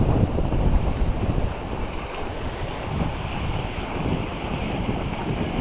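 Steady wind buffets the microphone aboard a sailboat in South Puget Sound, over rushing water and splashing waves, a continuous broad roar with no voices.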